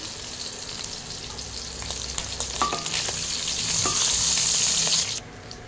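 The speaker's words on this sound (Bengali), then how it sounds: "বড়িগুলোকে ভেজে নেব। তেলে ভেজে নেব।" Lentil dumplings (bori) fry in hot oil for shukto, a continuous close sizzle with a few stirring scrapes that builds louder before cutting off sharply near the end.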